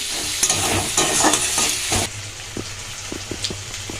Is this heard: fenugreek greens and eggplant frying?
yes